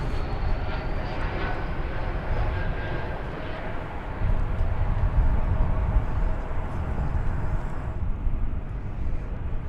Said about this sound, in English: it's an American Eagle plane, and it's an Embraer 175